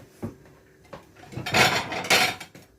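A serving plate is taken out in a home kitchen while a purple cabbage salad is prepared: a few soft knocks, then louder rattling clatters of dishes and a drawer, close by.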